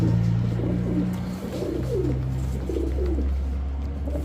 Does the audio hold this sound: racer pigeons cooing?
yes